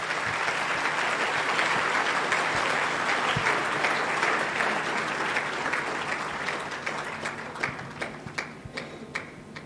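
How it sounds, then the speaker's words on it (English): Audience applause for two people coming onto a stage at a talk, steady crowd clapping that thins out toward the end into scattered individual claps. "let's give a hand of applause to the two sisters on the stage"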